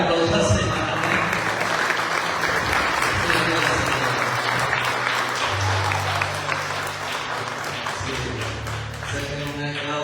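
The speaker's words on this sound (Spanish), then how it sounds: "Dale un aplauso al Señor." A church congregation at a Spanish-language service applauds loudly and steadily for the whole stretch, a dense wash of clapping with voices mixed into the crowd noise.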